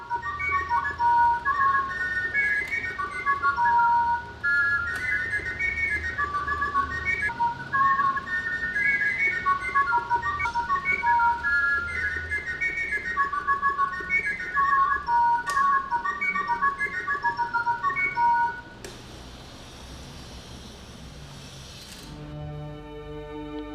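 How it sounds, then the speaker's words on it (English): A mechanical songbird in a watch chirps through a whistle with sliding pistons, giving rapid, repeated trilling phrases that rise and fall in pitch for a long stretch before ending, followed by a faint ticking of the mechanism. "Pierre Jaquet invented a whistle with sliding pistons, enabling one to modulate the song of the bird with a single flute"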